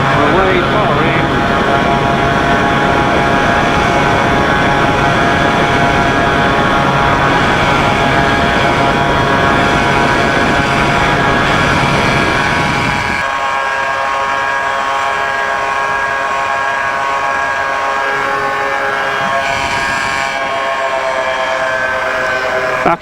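A light aircraft's engine and propeller roar steadily through a takeoff from runway 13 at Glebe Farm, a loud continuous drone that drops in pitch and intensity about halfway as the power is eased back, with radio-style talk mixed in.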